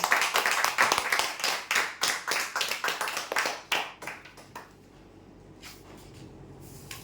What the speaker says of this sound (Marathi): जोरदार टाळ्या हो